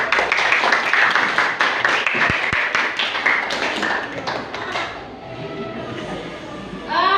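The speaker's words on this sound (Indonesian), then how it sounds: "Tepuk tangan buat kalian." Classroom applause from a group of students for the class, dense clapping filling the first five seconds and then tailing off as voices and other sounds take over.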